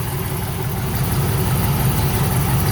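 A pickup truck engine idles cold, a steady low rumble with a fast, even throb, loud and close, running alone with no talk.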